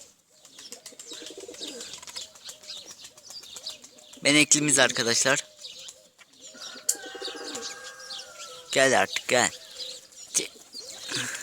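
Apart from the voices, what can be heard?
pigeons cooing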